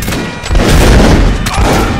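Musket fire from an infantry company in the Mount and Musket game, a dense, loud rolling fusillade of overlapping gunshots and booms that surges and continues without pause.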